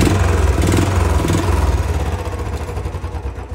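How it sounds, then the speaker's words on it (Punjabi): Royal Enfield Bullet motorcycle engine running close by with a steady low thump that eases slightly in loudness. "ਇੰਜਣ 'ਚ ਆਵਾਜ਼ ਆਉਂਦੀ ਹੈ ਸਲੈਂਸਰ 'ਚ ਨਹੀਂ ਆਉਂਦੀ"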